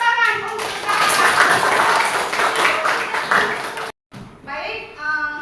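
A classroom of students claps for a classmate, a burst of quick, fairly close hand claps lasting several seconds with children's voices mixed in, then a brief silence before talking resumes.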